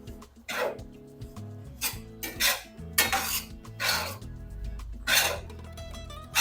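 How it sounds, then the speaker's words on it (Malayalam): Rava upma being stirred in a pan produces repeated loud metallic scrapes and clanks of a spoon against the pan in irregular bursts, close and prominent with no talking. "ഇത് നമ്മളിവിടെ ഒന്ന് ഇളക്കിക്കൊണ്ടിരിക്കുകയല്ലേ"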